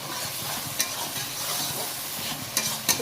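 Egg curry masala with a pinch of salt sizzles steadily in a hot pan as it is sautéed, a close, continuous frying hiss with a few sharp spatula clicks against the metal.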